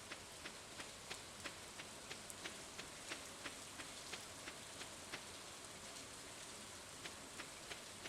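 Soft, steady rainfall in a winter farming video game, a quiet hiss with regular light ticking drops evenly spaced throughout.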